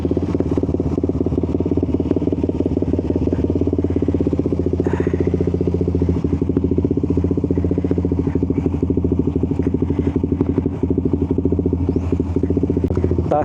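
A Suzuki GSX 150 motorcycle idles during warm-up with a steady, close putter that holds an even rhythm throughout, the idle running slightly high after a throttle body cleaning.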